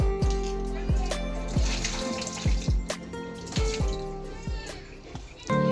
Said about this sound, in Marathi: आता आपण ह्यातलं पाणी सगळं काढून घेऊया।